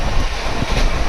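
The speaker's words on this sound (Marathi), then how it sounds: "सो हीच ट्रेन चालली आहे कोल्हापूरला" A moving train bound for Kolhapur, heard from on board as a loud, dense rumble with wind buffeting the microphone and faint wheel clatter throughout, no voices.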